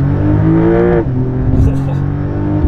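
Porsche 911 Dakar flat-six engine under load with airbox induction noise, a loud steady drone that rises, drops sharply at a shift, then climbs again with brief higher whooshes, close and continuous.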